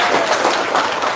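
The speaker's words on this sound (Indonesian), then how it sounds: "Tepuk tangan dong." Audience applause from a crowd at a talk, dense rapid clapping heard close and loud for a brief burst.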